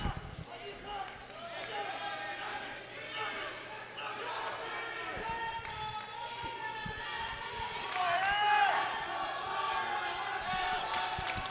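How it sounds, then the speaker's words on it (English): Rival crowds at a high school wrestling match cheer and chant against each other in a gym, a loud echoing wash of voices that swells near the end, with an announcer talking over it. "Dueling chants from the two crowds here."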